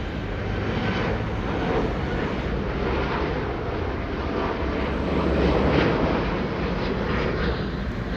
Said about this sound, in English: 777-300ER of Saudia landing in from Jeddah, I guess so